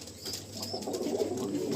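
Domestic pigeons of butterfly and red eagle breeds in a loft, soft low cooing murmurs under steady ambient noise, fairly close and continuous for a short stretch.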